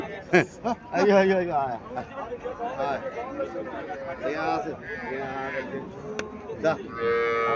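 A native dairy cow at a cattle market in Cumilla lets out a drawn-out moo amid nearby people talking and market chatter.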